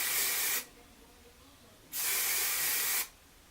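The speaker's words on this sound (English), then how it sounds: "I'm going to take a little bit of my Tang hairspray, and I'm just going to lightly smooth out." Two long bursts of Tang hairspray misted over braided hair, each spray hissing steadily for over a second with a quiet pause between, close and clear with no talking.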